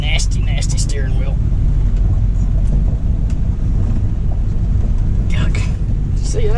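A 1984 Chevy C10 truck reverses slowly into its parking spot, a loud steady low engine rumble running throughout with brief bursts of people talking over it.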